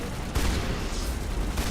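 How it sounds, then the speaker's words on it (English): A shotgun fires at zombies in the Mass Effect game, two loud, close blasts about a second apart, each a sharp crack with a booming low tail over a steady combat background. "Shotgun, the perfect zombie killing weapon."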